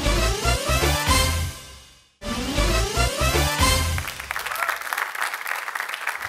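Studio audience applause on a Georgian TV comedy contest show: loud clapping that begins under music, cuts out briefly, then swells into a dense, sustained wash of clapping with no talk.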